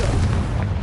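Explosive spell blast in the Hogwarts Legacy video game, a dense, loud boom lasting about a second with sustained low rumble and no talk.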